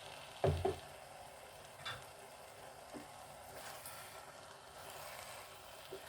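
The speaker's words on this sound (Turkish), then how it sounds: "Yumurtaları karıştırarak pişmesini sağlıyorum" Eggs stirred while cooking in a pan with kavurma: a couple of sharp utensil knocks against the pan, then soft scraping and faint sizzling, close and without voices.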